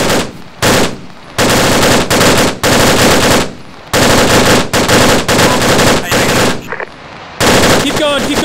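Long bursts of machine gun fire from Arma 3 gameplay, sustained near and loud with short gaps between bursts and a reload pause, one brief voice near the end.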